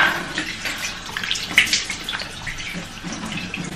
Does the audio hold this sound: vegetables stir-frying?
no